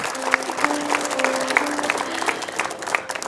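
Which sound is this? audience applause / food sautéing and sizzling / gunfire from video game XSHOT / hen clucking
audience applause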